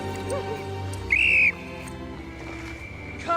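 A shrill whistle sounds once in a film scene after a shipwreck at sea, a short, loud, piercing blast rising over a low, sustained musical score.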